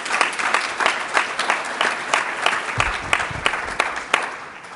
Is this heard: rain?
no